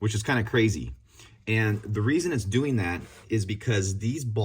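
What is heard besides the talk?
None of the usual background noises is heard.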